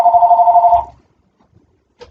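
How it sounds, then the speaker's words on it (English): A telephone rings loudly in the background with a fast trilling bell for under a second, then stops, leaving near silence and a brief faint sound at the end. "Darn phone in the background won't stop ringing."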